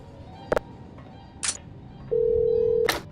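Telephone ringing in the Half-Life mod Hunt Down The Freeman, a single electronic ring tone held steadily for under a second after a few short clicks and beeps, fairly close and with no talk over it.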